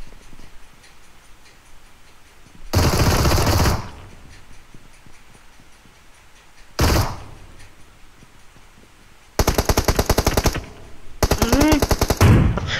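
Bursts of automatic gunfire in the BGMI mobile battle royale game, including several loud, rapid sprays about a second long, separated by quieter stretches with faint ticking.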